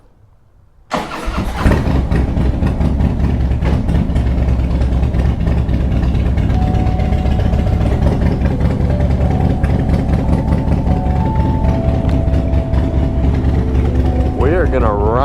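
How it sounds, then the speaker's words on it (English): A Harley-Davidson motorcycle with an electrical fault that keeps it from staying running cranks and fires up, then holds a loud, steady, throbbing idle close by for over ten seconds, with someone talking over it. "Start it again to make sure"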